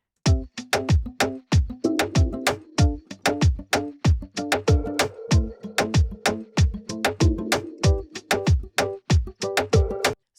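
Virtual guitar playing a recorded chord sequence over a Funky Mutes A muted funk loop, triggered from a keyboard: a steady stream of percussive, staccato muted strums with changing chords, loud and busy throughout, with no voices.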